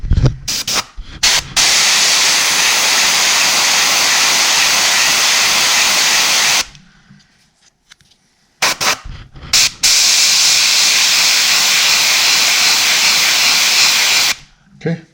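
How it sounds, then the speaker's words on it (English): An airbrush sprays paint onto a lemon head musky crankbait lure, a loud, close, steady hiss in long bursts broken by short pauses. "A brand new airbrush."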